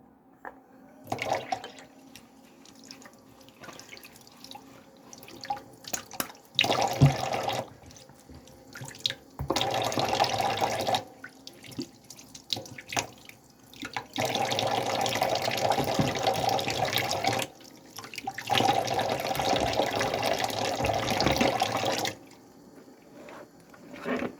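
Tap water runs into a kitchen sink while fruit is washed under it, gushing in several long, fairly loud bursts with short pauses between them and no talking.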